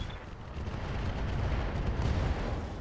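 A Gauss rifle shot and explosion in the mech combat game RogueTech make a dense, loud, rumbling roar that holds steady for about three seconds, with no voices over it.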